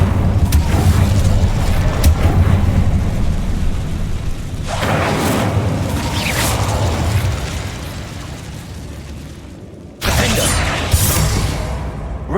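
Bombarda and Incendio spell blasts in Hogwarts Legacy erupt as loud booming explosions with fiery rumbling tails, several bursts in sequence including a sharp final blast, with no talking.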